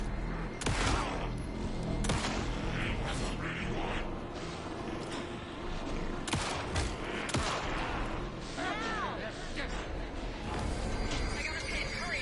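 Gunshots from the video game Alan Wake II crack in repeated bursts at an uneven pace, loud and close, over a tense game soundscape with some voices.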